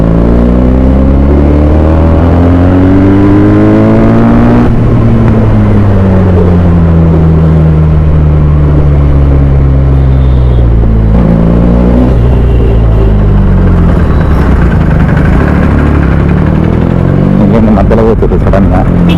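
A Benelli 300i motorcycle fitted with an SC Project exhaust is ridden through town. The engine drones loudly and continuously, with revs rising and falling through gear changes and a rough rumble under wind noise.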